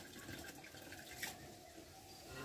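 Water is poured into a cooking pot as rice is washed for cattle feed in a village kitchen, a faint, steady splashing trickle with no voices.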